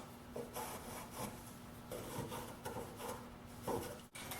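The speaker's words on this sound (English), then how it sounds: "I've clamped a stop block to my back saw because we're going to be making quite a few of these cuts" A back saw with a clamped stop block cuts half-lap mortises in wood, rhythmic rasping strokes repeating steadily at close range, with a low electrical hum underneath.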